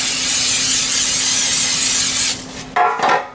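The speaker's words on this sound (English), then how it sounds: "we just got some cooking spray" A steady, close hiss of aerosol cooking spray coating baking pans for a couple of seconds, followed by short clattering and handling noises.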